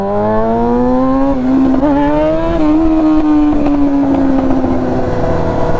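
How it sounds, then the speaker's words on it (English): A motorcycle revs hard on the street during a wheelie, its engine loud and close with a strong buzzing tone that climbs, drops with gear changes and climbs again over several seconds. "That was not a good one, but it was a wheelie."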